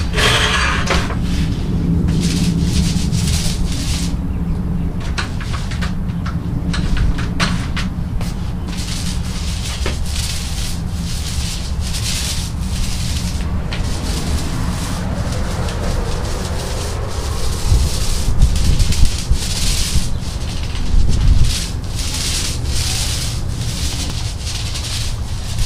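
A paint roller spreads Behr Granite Grip textured coating across a concrete patio, a steady gritty rubbing and rasping as the roller is pushed back and forth, close and continuous with slight swells.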